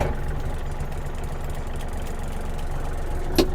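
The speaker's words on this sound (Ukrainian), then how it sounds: "Ну і поки фреза опущена, давайте перевіримо вал відбору потужності." A Yanmar AF-28 mini tractor engine runs steadily close by with the power take-off engaged and the tiller lowered, a low, even rumble with a faint knocking texture and a brief click near the end.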